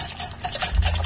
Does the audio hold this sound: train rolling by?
no